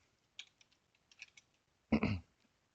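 Several light, quick key clicks of typing on a computer keyboard, followed by a louder thump or clack, close by with no talking.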